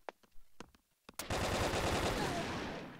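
Gunfire from Brick Force, a blocky Minecraft-style online shooter: a few scattered shots, then a loud, sustained automatic burst that rattles on without pause to the end.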